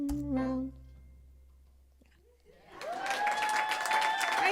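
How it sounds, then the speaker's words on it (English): An audience claps for a blues song at a live performance, the applause rising after a sung phrase fades and a brief lull, then holding steady and fairly close as a broad wash of hand claps. "I told them all they really have to clap for my song"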